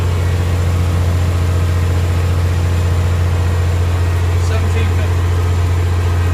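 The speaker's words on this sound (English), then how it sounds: "we're gonna throttle up to the right RPM, like we're in PTO." Truck engine held at raised RPM from the cab with cruise control, as for PTO, producing a steady loud droning hum; a person speaks briefly over it.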